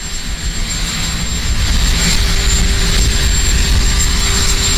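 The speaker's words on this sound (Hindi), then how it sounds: "बाइडेन हेलीकॉप्टर में सवार होकर जा रहे हैं।" A helicopter carrying Joe Biden flies close by with a loud, steady engine roar and rotor noise that swells slightly. No speech is heard.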